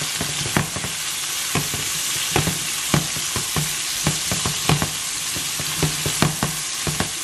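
Bell peppers sautéing for pepper steak, a steady close sizzle with repeated sharp clacks of a utensil stirring against the pan, no talking.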